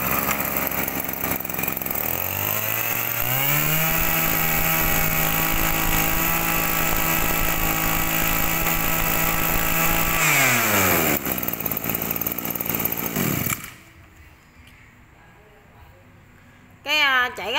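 A Mitsubishi TB engine on a Japanese grass cutter revs up and holds a loud, buzzing two-stroke whine. It then winds down and cuts off near the end, leaving a quiet tail with a brief burst of sound after it.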